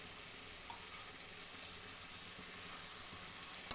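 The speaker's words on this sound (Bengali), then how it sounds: "এবার এর মধ্যে দিয়ে দেবো আমি লোটে মাছগুলোকে আস্তে আস্তে ছেড়ে দিলাম।" Bombay duck fish slipped into a pan of well-cooked spice paste, giving a faint, steady frying sizzle and soft hiss throughout, with no talking.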